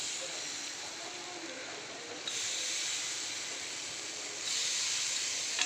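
Tomatoes tipped into a hot pan for an egg masala set up a steady broadband sizzle that grows louder in two steps as the cooking continues, close and unbroken, with no talking over it.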